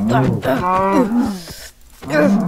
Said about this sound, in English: Let's kill this cow.